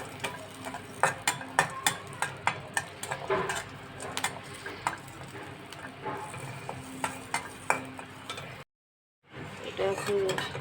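Onion, coriander leaves, garlic and dried chilies frying in a pan for an egg mash, with steady sizzling and frequent clicking stirs, a brief silent gap near the end before the frying resumes.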